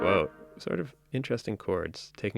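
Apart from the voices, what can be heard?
None of the usual background noises is heard.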